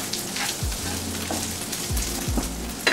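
Ground beef frying in a pan for nachos, a steady close sizzle with occasional scraping and stirring.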